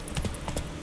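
Horse hooves in The Witcher 3, a few quick clip-clop steps close by, brief and moderately loud.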